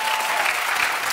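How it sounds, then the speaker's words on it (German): Studio audience applause during a live music quiz show, a brief, loud and dense burst of clapping throughout. "Ganz Applaus für Tanzmaus."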